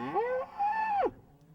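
A single cow gives one drawn-out moo that rises, holds, then drops off sharply, close and clear against a quiet background.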